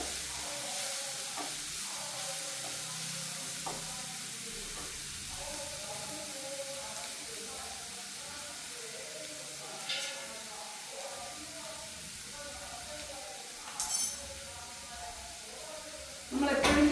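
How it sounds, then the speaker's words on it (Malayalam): Onions saute quietly in a pan at home with a faint continuous sizzle, occasional stirring scrapes and a few sharper clatters near the end, under a soft speaking voice. "ഇനി നമ്മുടെ സവാള ഒന്ന് വഴന്ന് വരണം നല്ല രീതിയിൽ."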